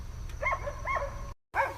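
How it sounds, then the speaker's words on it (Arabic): Dogs in a valley bark a few times at middle distance, in short yelping bursts. A brief dropout cuts in before a final bark, and no one talks. "هذه الكلاب"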